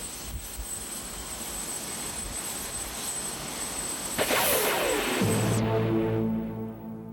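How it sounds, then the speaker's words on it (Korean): Jet engine noise from an S-3 Viking anti-submarine patrol aircraft on the Kitty Hawk aircraft carrier, a loud, steady broadband roar that swells and then winds down with falling tones. "대잠수함 초계기 S3 바이킹"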